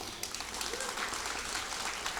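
An audience at a garland performance breaks into brief, fairly faint applause after an anniversary announcement, a steady patter of clapping lasting a couple of seconds.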